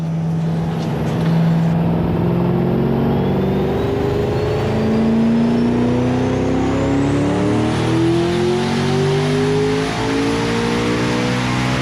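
A tractor's turbocharged OHX Turbo 55 engine revving hard on a dyno, loud and sustained, its pitch climbing steadily with a long whine over a heavy drone and no speech.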